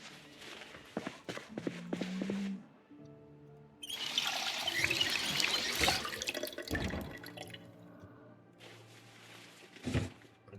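Water bottles being filled at a sink in the Project Zomboid video game, a running trickle and splashing pour that swells for several seconds, with scattered clicks and drips before and after.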